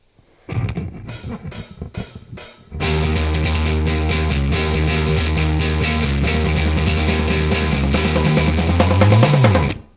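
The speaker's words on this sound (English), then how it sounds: "a good old P-bass through a Marshall simulator" A gritty, overdriven P-bass riff through a Marshall amp simulator repeats steadily under a driving drum beat, loud and full, preceded by a short drum lead-in.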